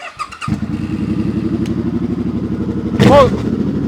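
A Suzuki Boulevard M50 motorcycle engine fires up and settles into a steady, fairly quiet, throbbing idle close by, with a brief burst of voice partway through.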